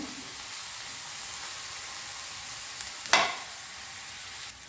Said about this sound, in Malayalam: ഒരു ചെറിയ സവാളയാണ് എടുത്തത് ഇത് നമുക്കൊന്ന് മൂപ്പിക്കാം നല്ലവണ്ണം ഒന്ന് മൂത്ത് വരട്ടാന്ന്